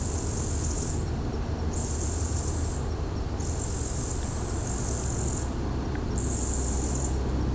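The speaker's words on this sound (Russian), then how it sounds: "А вот кузнечики. Тоже со стереоэффектами." Grasshoppers or crickets trill at night in Australia in a high, shrill chorus that pulses in long bursts with short gaps, over a low steady background hum, several insects overlapping and calling back and forth.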